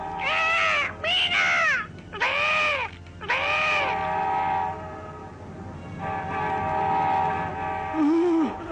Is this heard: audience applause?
no